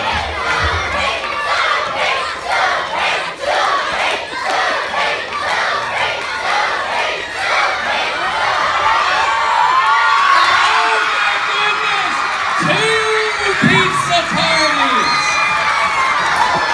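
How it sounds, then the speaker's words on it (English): A crowd of young children at a first-grade school assembly cheers, shouts and whoops, the noise swelling loud and sustained across the room, with an adult voice heard near the start. "Let's cheer on Supreme"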